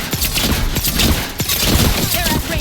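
Mortar and gunfire in a video game battle against human mercenaries: a dense, continuous barrage of thuds and cracks with repeated sharp impacts, loud and close throughout, with faint voices mixed in.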